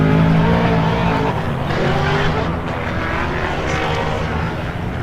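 A drift car on a qualifying lap at an Australian Drift Club SUPERDRIFT round roars loud and close throughout, its engine holding a high, sustained note with rough tyre noise beneath.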